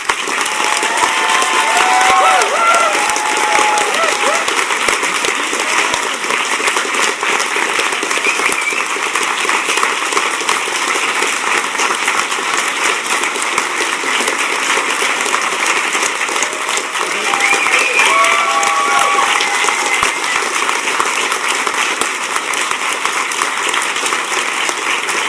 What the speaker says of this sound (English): So a round of applause for number 6.